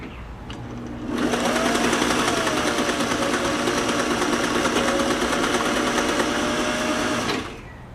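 A Singer 503A sewing machine stitching a zigzag runs in one loud, steady, high-pitched whir for about six seconds, starting abruptly and winding down at the end, close up with no voices.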